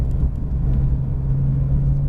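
A Porsche GT3 RS engine drones steadily and loudly on the Auto Club Speedway track, a close, sustained rumble with a constant tone and no voices.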